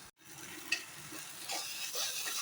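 Spice and tomato mixture sautéing in a pan, a soft continuous sizzle with occasional light scraping stirs, faint and close, no talking.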